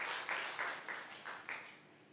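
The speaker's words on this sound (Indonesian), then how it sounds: "Beri tepuk tangan lagi buat Tuhan Yesus." Congregation applauding during a church worship service, a quiet, rhythmic patter of hand claps in even bursts, somewhat distant.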